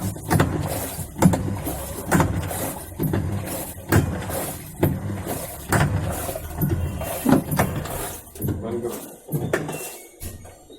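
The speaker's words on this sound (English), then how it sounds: "washing machine problem gearbox में आवाज आ रहा है, वॉश करें खटखट" Knocking from a faulty gearbox in an LG Fuzzy Logic 6.5 kg washing machine during the wash cycle, a steady repeating series of loud thuds and clunks roughly every half second, close up.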